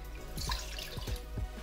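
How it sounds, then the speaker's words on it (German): Water pours and splashes into a cooking pot for kimchi paste, with gurgling, dripping bursts close up. "für die Kimchi-Paste gebt ihr einfach 500 Milliliter Wasser"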